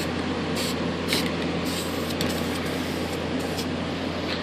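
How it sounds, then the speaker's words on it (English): Spray paint hisses steadily and continuously onto a Sky Angel RC Rare Bear model plane, a loud, even rush with faint flickers in it and no pauses. "what I'm going to do is I'm going to come back in and spray that again"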